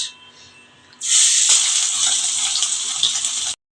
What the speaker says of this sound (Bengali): এখন আমি এক এক করে সবার আগে মাছের মাথাটাই দিয়ে দিচ্ছি